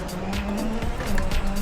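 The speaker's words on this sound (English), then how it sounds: "the throttle, which will make the car slide" Rally car from the WRC 9 video game sliding under throttle, with a steady engine drone, a tire-squeal tone and gravel-like hiss running through a short, loud stretch.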